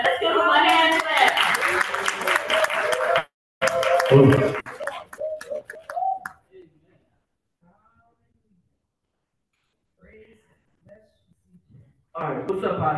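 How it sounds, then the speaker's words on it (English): Hand clapping from an audience in a church service fills the first few seconds, close and busy, then thins to scattered claps and fades into near silence before the clapping picks up again. "Let's give him a hand clap."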